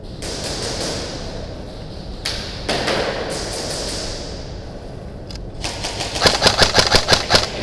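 Airsoft guns firing during a wargame skirmish in a parking lot, several separate sharp shots early on, then a rapid burst of clicking shots near the end, moderately close, with no talking.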